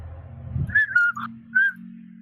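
A person whistles a few short, clear notes in a brief halting phrase, close and alone over a low steady hum.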